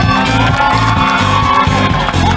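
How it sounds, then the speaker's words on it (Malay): A school innovation event audience at S.M.K Syed Sirajuddin cheers loudly, a dense crowd roar with shouts and whoops layered over booming music with a pulsing beat, sustained and close. "Tepukan untuk semua yang ada berada di sini."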